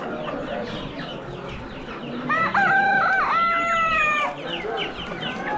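A long crower rooster crows once in a long, drawn-out call that holds for nearly two seconds, set against a busy background of other clucking fowl at an animal auction.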